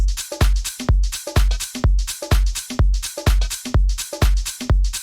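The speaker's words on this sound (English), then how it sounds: "The drums sound like this." A punchy four-on-the-floor electronic drum loop with booming kicks, crisp claps and hissing hi-hats repeating in a steady, driving groove.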